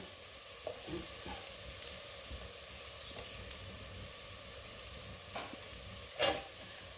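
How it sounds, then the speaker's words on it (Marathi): Onion sautés with turmeric, kasuri methi and Malvani masala in a pan, giving a faint, steady sizzle broken by a few soft stirring scrapes, the loudest one near the end, with no voices. "आता हे मसाले छान परतून घेऊया"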